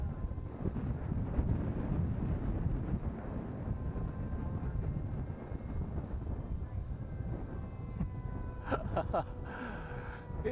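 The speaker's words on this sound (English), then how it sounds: "the wind is quite strong" Strong outdoor wind buffets a microphone with a steady, loud, rumbling roar that lasts throughout; near the end a faint tonal whine rises briefly above the noise.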